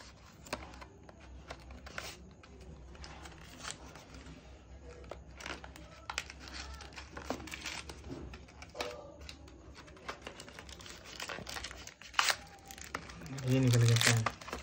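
A thin plastic packaging bag crinkles and rustles in irregular bursts as a passive stylus is unpacked, with a few sharper crackles and a soft thump near the end, under ongoing talk.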